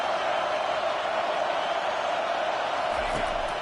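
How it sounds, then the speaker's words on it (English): A stadium crowd roars continuously at a football game, a dense steady wall of cheering noise with no breaks. "Listen to this crowd just shaking the girders of this place"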